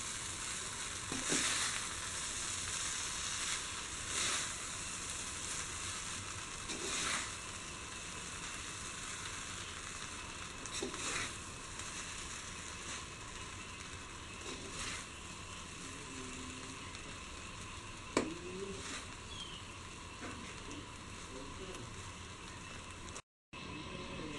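Egg biryani rice being gently mixed in a pan, Kerala style: a quiet steady sizzle broken by soft, periodic scraping stirs, with no one speaking.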